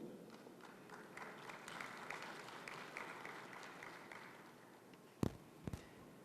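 A seated audience at the inaugural session of an annual assembly claps steadily for several seconds, a broad soft patter at moderate distance that fades out, followed by a couple of sharp knocks near the end.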